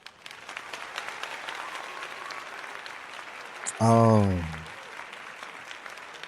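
Maury-style talk-show applause sound effect: a steady wash of studio audience clapping, broken midway by a short loud vocal exclamation.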